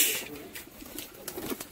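Pigeons cooing softly in a loft where trained sport pigeons are kept, several low murmuring coos repeating through the stretch alongside faint background noise, no one speaking.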